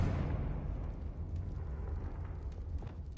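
A Confringo spell blast in the Hogwarts Legacy video game: a deep rumbling explosion that erupts at once and rolls on, slowly fading across the few seconds with a faint pop at the end.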